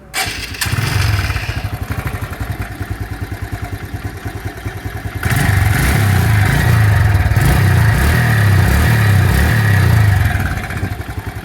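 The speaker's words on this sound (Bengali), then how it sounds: "দর্শক, এই গাড়িটার ইঞ্জিন সাউন্ডটা আপনাদেরকে এখন শুনিয়ে দিই।" A Metro Plus motorcycle engine running nearby: a loud, steady putter at idle that rises to a fuller, louder revving drone partway through, then eases slightly at the end.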